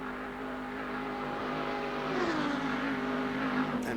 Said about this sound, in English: Here comes Nige in the other Pioneer car